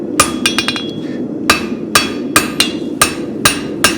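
Hammer blows forge-weld a spavin horseshoe on an anvil, a quick cluster of sharp ringing strikes followed by steady, evenly spaced heavy blows, loud and close.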